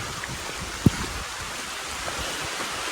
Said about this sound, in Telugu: వర్షం సడన్గా పడిపోయింది వర్షం